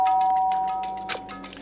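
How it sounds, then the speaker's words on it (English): A single bright ding of a doorbell in the Danganronpa Trigger Happy Havoc video game rings out and fades, followed by a short metallic clang, heard alone without speech. "Byakuya stood in front of her door, not making a sound, and pressed the doorbell."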